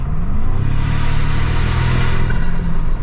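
A 2025 Toyota Tacoma Trailhunter with a raised air intake accelerates, its engine drone climbing steadily under a loud, continuous airy whoosh, close and without talk.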